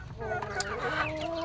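Free-range village chickens cluck steadily and close by as they eat prepared feed, a short busy burst of overlapping clucks and calls.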